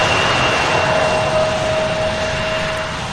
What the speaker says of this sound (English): E175 comes in for landing on 35 right